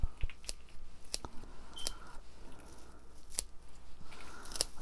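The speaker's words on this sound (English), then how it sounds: "take my shears, and cut off some of this dead stuff" Shears snipping dead growth off a potted plant, a handful of sharp, quiet clicks and crisp cuts spaced irregularly over a faint background, close by.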